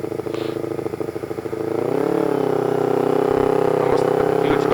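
A motorcycle rides in first gear through snow at night, its engine droning steadily and rising slightly in pitch as it pulls along, with wind noise and someone talking over it early on.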